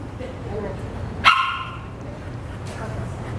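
One sharp dog bark during an obedience training session, a single loud yip that cuts through low background murmur and ambient noise, then fades out.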